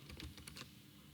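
A short burst of a few quick keystrokes on a computer keyboard, close and fairly faint, with no voice.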